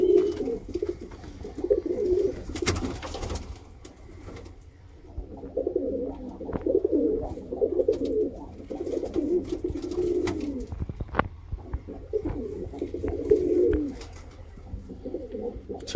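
Pigeons coo repeatedly in low, throaty rolling phrases, steady and fairly close, with brief pauses between bursts and some background rustle.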